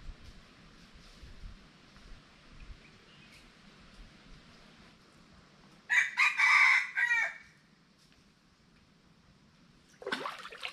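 A rooster crows loudly nearby, one full crow in the middle and the start of another near the end, over a quiet outdoor background.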